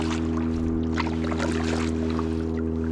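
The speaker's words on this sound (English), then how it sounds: "I don't know if you can hear that boat to my left." A steady low engine hum from a motorboat carries over a calm wilderness lake by the Canadian border, with faint water trickling and lapping nearby and no talking.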